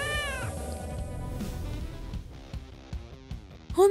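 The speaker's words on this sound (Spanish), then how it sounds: "Nuestro gatito vuelve a explorar el mundo." A kitten gives a short, high meow at close range, followed by a cluster of light tapping and clicking sounds and a second brief meow at the very end.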